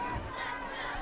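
Crowd noise from the stands at a high school football game at night, a low steady murmur of many voices with occasional shouts, fairly distant.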